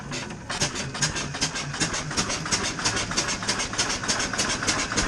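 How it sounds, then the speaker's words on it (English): A 1906 Reo Model B engine starts and settles into a steady idle, a loud, close, rhythmic chugging that pulses evenly through the clip with no voices over it. "cheat and use your start button"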